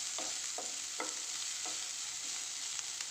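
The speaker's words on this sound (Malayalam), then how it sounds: "ഇതാ ഉള്ളി നല്ലോണം വഴന്ന് വന്നിട്ടുണ്ട് ഗൈസ്." Onions sautéing in a pan while cooking a spiced potato filling for kozhukatta, a steady sizzle with periodic scraping strokes of a spoon, close and alone.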